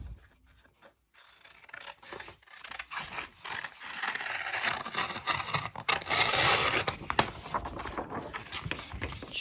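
Fabric for an all-over sublimation t-shirt being trimmed, giving a continuous rubbing, scraping rasp that builds from quiet to steady and fairly loud, with small clicks scattered through it.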